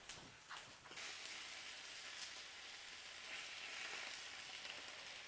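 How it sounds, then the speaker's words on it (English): Chicken pieces for orange chicken fry in oil in a small batch, a steady bright crackling sizzle that swells after an initial clatter and holds close and even throughout. "And then I'm going to fry it in small batches."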